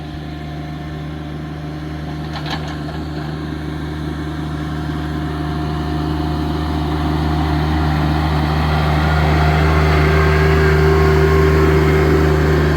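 A tractor engine drones steadily while tilling a large field, a low constant hum with a strong tonal rumble that slowly grows louder as the machine approaches.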